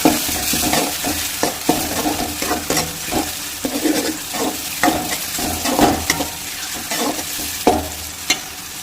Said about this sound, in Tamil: இப்போ தக்காளி வதங்குறதுக்கு நம்ம கொஞ்சமாக உப்பு சேர்த்துக்கலாம் சேர்த்து விட்டு நல்லா கிளறி விட்டுக்கலாம்